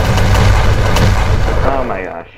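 Heavy booming gunfire from a hex spitter weapon in a video game, loud and up close, with rumbling blasts that trail off at the end.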